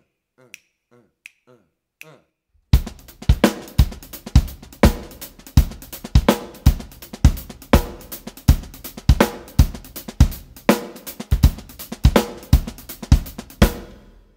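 Drum kit playing a half-time shuffle with a syncopated bass drum figure: a few light clicks, then a steady, loud, close groove of sharp repeated hits with accented kick and snare in a syncopated pattern, no voices.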